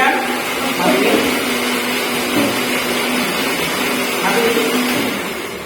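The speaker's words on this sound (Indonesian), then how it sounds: "Nah, ini fungsi dari blender, yaitu menghancurkan makanan sehingga terlihat lebih halus" A kitchen blender whirs steadily while blending a banana smoothie, a continuous loud motor drone with slight surges. A voice speaks over it at moments.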